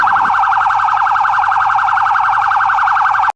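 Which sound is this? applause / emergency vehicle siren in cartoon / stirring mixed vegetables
emergency vehicle siren in cartoon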